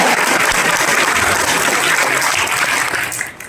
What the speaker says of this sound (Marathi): एकदा जोरदार तुमच्यासाठी टाळ्या होत्या